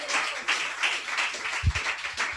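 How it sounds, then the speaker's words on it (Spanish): A church congregation claps in praise during a Spanish-language sermon, a dense steady wash of hands with rhythmic swells and a few low thumps, loud and close, with no talk over it. "Dale ese aplauso al Señor"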